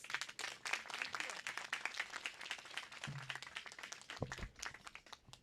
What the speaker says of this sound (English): Will everyone please give President Preckwinkle a round of applause?